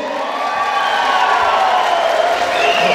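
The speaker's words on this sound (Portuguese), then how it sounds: "Que dê as palmas ao prefeito aí, gente!" Crowd at an outdoor show expo applauding and cheering for the mayor, a dense, loud roar of clapping and voices sustained throughout.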